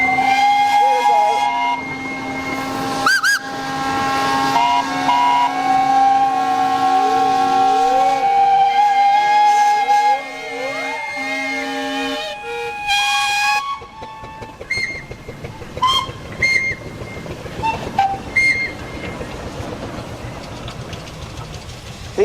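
Steam engine whistle at the Sussex Steam Rally in Parham Park, sounding long sustained blasts in the first half, then shorter toots among a busy outdoor crowd, with voices around.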